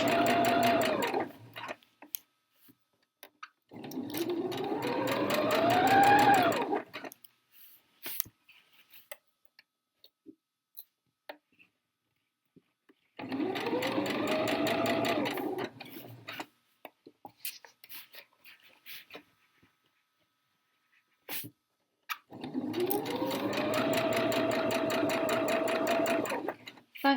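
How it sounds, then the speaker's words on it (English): A sewing machine stitches a hem around the bottom of a skirt in four separate runs, each a few seconds long with a steady mechanical whir, and near-silent pauses between them. "we're just stitching around the bottom of the skirt"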